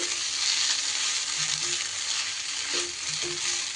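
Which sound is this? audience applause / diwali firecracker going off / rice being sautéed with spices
rice being sautéed with spices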